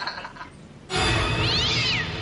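A hungry stray cat gives one long, wavering meow that starts abruptly after a quieter moment and carries on steadily, close to the listener, with no voices.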